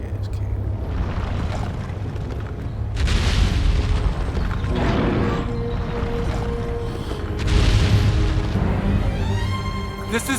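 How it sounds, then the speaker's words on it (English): A big cannon fires in the video game Wild Hearts: deep booming blasts roll out over a rumbling, watery background, two heavier surges standing out, with a voice heard faintly at times. "I gotta shoot this big ass cannon."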